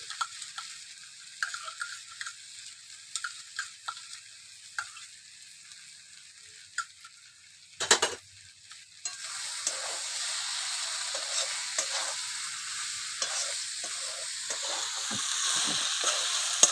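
Cabbage and fish head chorchori fries in ghee in a pan, giving a steady close sizzle with scattered crackles and a brief louder burst of hissing midway, after which the frying grows fuller and denser until the end.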